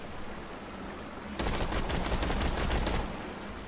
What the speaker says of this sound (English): I just went ahead and shot that so I don't get uneven ammo